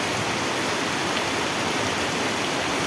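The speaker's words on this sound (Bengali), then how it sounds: "জল সব চলে যাচ্ছে পিছনে" Rainwater rushing across a village field during the first heavy rain of the year, a steady broadband wash of flowing water and rain that stays even and close throughout.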